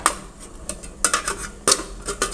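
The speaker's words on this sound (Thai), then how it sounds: "ปิดฝา" A metal lid set onto a cooking pot while catfish is cooked in it, several sharp clinks and clatters of metal on metal close by, with no talking.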